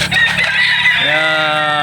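Hens clucking loudly and close by on a farm, with a drawn-out, crowing-like call that carries to the end.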